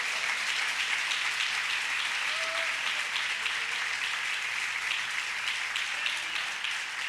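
A church congregation at an Assemblies of God service applauds in a continuous, even roar of many hands that holds steady for all seven seconds, with no pause or fade.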